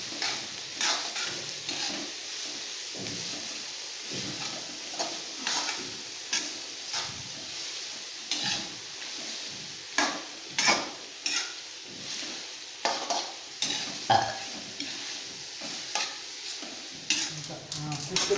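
Chopped onions frying in hot oil in a pot for homemade biryani, a steady close sizzle broken by repeated scrapes and clinks of a spoon stirring against the metal, with no talking.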